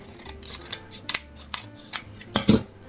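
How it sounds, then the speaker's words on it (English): Scissors cut paper for a homemade Valentine's Day gift box, a series of close, crisp snips and rustles spaced irregularly, with several sharper louder cuts toward the end and no talking. "cut the paper around it."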